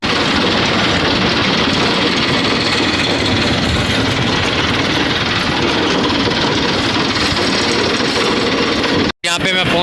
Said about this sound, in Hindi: और जी ट्रैक्टर स्टार्ट नहीं हो रहा। हो गया जी